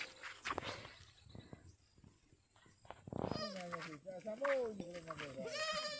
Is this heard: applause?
no